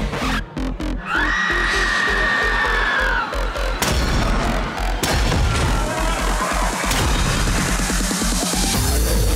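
Shotgun blasts ring out in a Blade movie fight scene, a couple of sharp loud bangs amid dense action noise and a soundtrack.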